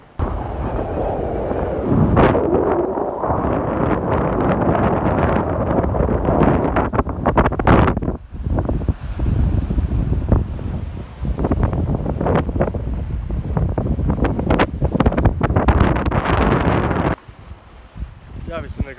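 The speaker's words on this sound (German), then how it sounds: "wir sind ja gerade am Meer an Klippen" Strong wind buffeting the microphone on coastal cliffs above the sea, a loud continuous low roar with gusting surges and a brief lull near the end, while a person speaks.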